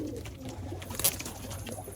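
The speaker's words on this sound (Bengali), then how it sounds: "আর এই ফেস অফ বিউটি, পুরো ফুলশিরা পায়রা।" Fulshira pigeons coo softly and steadily inside a pigeon loft, with low, continuous throaty calls and a brief flutter partway through. Nobody speaks.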